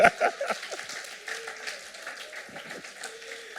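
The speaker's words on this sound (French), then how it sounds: "Quelqu'un ici acclame Jésus." A congregation at a French-language sermon breaks into applause, with sharp bursts of clapping at the start that quickly fade into scattered claps and low murmuring.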